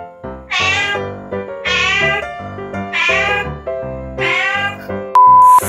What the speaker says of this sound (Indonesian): Apa sih kucing ini,